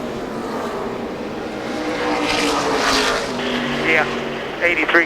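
Engines of 2007 NASCAR Nextel Cup race cars at a pit stop, a steady broad roar that swells in the middle and ends with sharp revving bursts, with a radio voice talking over it.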